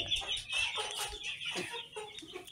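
Small backyard flock of chickens clucking close by in a steady busy chorus, with occasional sharper calls over a soft farmyard background.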